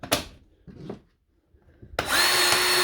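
A Milwaukee grease gun powered by a DeWalt battery through an adapter, preceded by clicks and handling, then its motor whirs up loud and steady for the final second.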